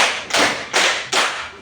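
A class of pupils clapping in unison to a counting chant, three strong group claps in an even rhythm, each with a short room echo, close and loud with no talk on top.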